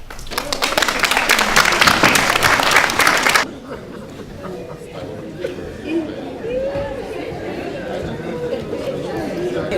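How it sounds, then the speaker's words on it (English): An audience claps loudly and steadily at a cultural dance workshop for about three seconds, then the applause cuts off and gives way to chatter and soft voices around the room. "I would like them to have a round of applause for that."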